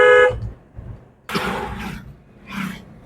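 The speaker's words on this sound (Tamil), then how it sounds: "ஹார்ன் ஆச்சு." During a driving lesson, a car horn gives one short, loud honk at the very start, followed by quieter bumps and rustles from inside the vehicle.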